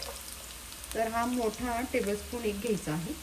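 Onion, garlic and ginger sauté in a pan for rice noodle chow mein, giving a steady soft sizzle under a voice speaking in Marathi throughout.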